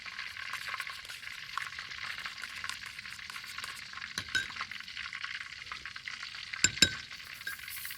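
Chicken stir-frying in a pan with added sauce and seasoning of oyster sauce and sugar, a steady close sizzle running throughout with a few sharp clinks of a utensil against the pan near the end.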